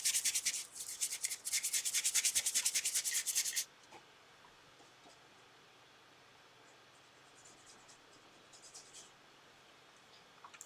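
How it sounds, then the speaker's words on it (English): A stiff-bristled brush scrubs dry paint across a model surface in a burst of rapid, close scratchy strokes for several seconds, then stops, leaving only faint room noise and a few light brushes. "hard, crappy bristle brushes like this are perfect for dry brushing"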